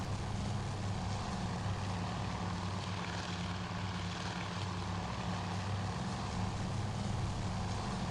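Droning propeller engines of TBD torpedo bombers in the naval strategy game Task Force Admiral, a steady loud hum with no breaks throughout.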